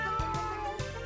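A cat meows in the game Mimicry Man, a short tonal call over steady game music, with a few soft thumps.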